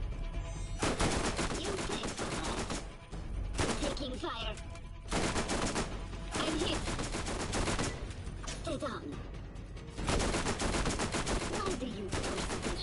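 Gunfire in the video game Borderlands, loud close bursts of rapid automatic fire in repeated stretches separated by brief gaps, with game voices mixed in.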